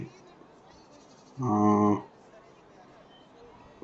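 A single loud sheep bleat rises clearly for about half a second over a murmur of background chatter and noise at a large sheep and goat market.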